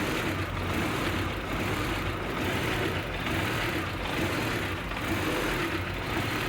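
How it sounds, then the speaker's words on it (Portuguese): A Ford Escort Zetec 1.8 16v engine idles steadily after intake manifold gasket work, a close, even low rumble holding at a constant level with no voices over it. "Olha o funcionamento do motor, estabilizou."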